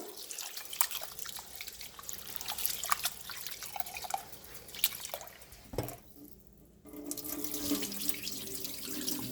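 Basmati rice being rinsed in water, with running tap water, splashing and dripping in a sink throughout, broken by a brief lull before the flow picks up again.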